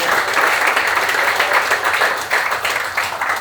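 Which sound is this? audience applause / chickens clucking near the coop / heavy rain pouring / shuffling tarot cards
audience applause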